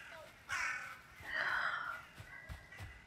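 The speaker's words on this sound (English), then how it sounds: "Stupid crows are kind of startling me a bit." Crows in the Valheim video game give loud, close caws in a few separate bursts, each harsh and drawn out, with quiet pauses between them.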